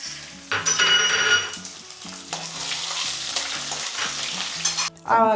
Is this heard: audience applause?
no